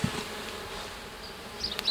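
Honey bees buzzing around an alpine beehive, a steady faint hum of many wings close by, with a few louder passes of single bees near the end.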